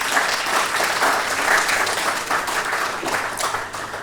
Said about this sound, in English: And I think we all deserve a round of applause.